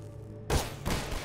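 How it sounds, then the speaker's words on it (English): Gunfire from Half-Life 2 comes as two sharp, loud bursts about a third of a second apart after a quiet start. "You're shooting, man."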